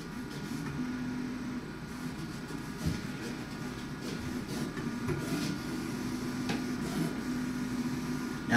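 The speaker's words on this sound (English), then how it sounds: "You can see the cutter cutting here" Vinyl cutter slicing EasyWeed heat transfer vinyl at about a 10 cut force, a steady mechanical whir with a faint motor whine and occasional clicks as the head moves, constant and close.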